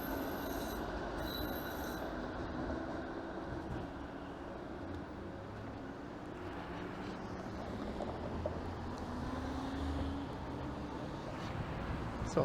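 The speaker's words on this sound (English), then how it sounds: "there goes a 506 Carlton streetcar making its way up to Main Street Station" A 506 Carlton streetcar passing in winter Toronto, its wheels squealing in a long, high, wavering screech over a steady rumble of rolling traffic, heard from a moderate distance without talking.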